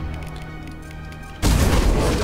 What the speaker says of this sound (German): Da kommt so eine Abomination. Die sind fies, weil die explodieren.